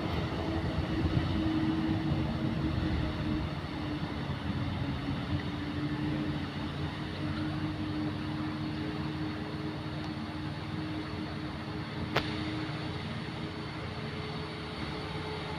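Mitsubishi Colt Diesel Euro 4 truck accelerating hard up an incline, a loud sustained diesel roar with steady broadband rumble, recorded from nearby without speech.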